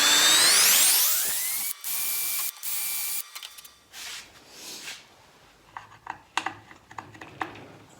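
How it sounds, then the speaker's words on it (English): A power drill spins up with a rising whine, drilling holes for stepper motor mounting bolts in several loud bursts, then gives way to clattering and handling noises. "we'll drill 3 holes, get some bolts in there"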